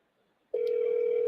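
A telephone call rings out while waiting for voicemail to answer: after a short quiet stretch, a loud steady ringback tone starts abruptly and holds unbroken, close and clear with no talk over it.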